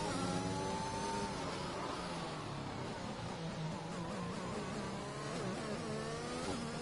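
Race car engine in a racing video game, short shifting on the Brazilian GP circuit: a steady onboard engine drone with gear-change dips and rising pitch sweeps, moderately loud and continuous, with no talk.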